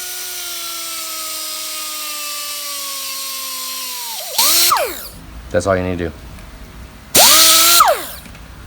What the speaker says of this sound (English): it's just a deburr tool. Now, get it spinning.